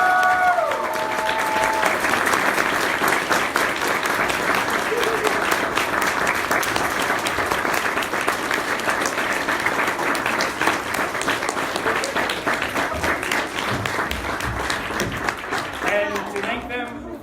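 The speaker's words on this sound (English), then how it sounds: "I'd like to give them one more round of applause for all their hard work." Sustained applause from an audience fills the room, steady and loud for the whole stretch, with a few voices and cheers mixed in and a brief speaking voice at the start.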